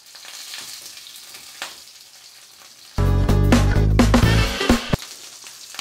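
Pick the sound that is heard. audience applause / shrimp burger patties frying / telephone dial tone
shrimp burger patties frying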